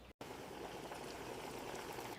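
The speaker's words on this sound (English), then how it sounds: "I'm pouring in olive oil and coconut oil." Olive oil and coconut oil pour in a steady continuous trickle into a hair-oil mix of onion and aloe vera, close and even throughout after a brief cut at the start.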